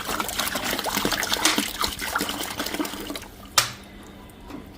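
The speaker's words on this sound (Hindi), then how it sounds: "इस तरीके से हम आरओ का पानी इसके अंदर डाल देंगे, जितना भी हमें बनाना है इस तरीके से।" RO-purified water poured into a container for juice packing, a steady close trickle and splash that tapers off, followed by a sharp clunk and quieter stillness.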